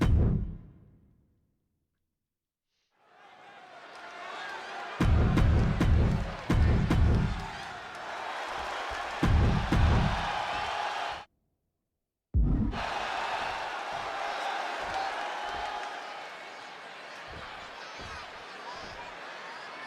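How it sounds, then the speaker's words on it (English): Arena crowd noise in WWE 2K26 during a CM Punk versus Eddie Guerrero match in Chicago, a steady roar with bursts of louder cheering, briefly cut out, under commentary. "just listen to this crowd here in Chicago"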